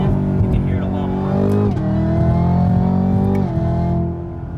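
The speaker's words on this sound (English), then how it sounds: "this downshift, you can hear it a lot more." A 2018 Camaro ZL1 fitted with a new intake downshifts, its supercharger whine rising over a loud, steady engine drone with pitch sweeps at each shift; a voice talks over it throughout.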